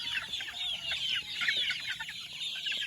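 Several small chicks cheep and cluck continuously at close range, a busy chorus of high, overlapping peeps with no voices over it.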